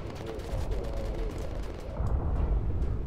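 Bomber gunners firing at fighter planes in the video game Bomber Crew, with a rapid, dense rattle of machine-gun fire and rumbling blasts, moderately loud and continuous across a few seconds.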